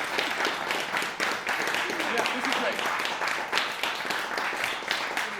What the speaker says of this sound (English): Yes, clapping.